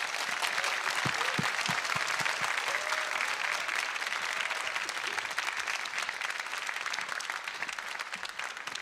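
Sustained applause from a seated concert-hall audience at a youth economics talk, a dense wash of clapping with a few close, distinct claps near the start, continuing evenly throughout without speech.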